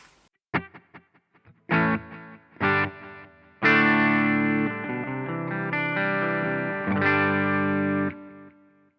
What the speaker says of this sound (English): Okay, so that's a bit of delay.